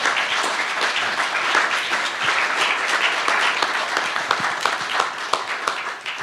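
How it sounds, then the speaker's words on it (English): Sustained audience applause fills a hall at an evening talk on memory in divided cities in Belfast, with dense steady clapping from start to finish at an even loudness. "Please give him a round of applause."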